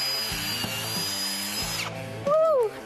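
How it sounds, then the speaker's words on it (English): A power drill bores into a Wild Turkey whiskey barrel, a close, steady grinding whir that stops abruptly, followed by a short squeaky scrape as the bit or tap works into the wood. "you're able to drill in for us. Yes, I'm going to tap into one of our barrels"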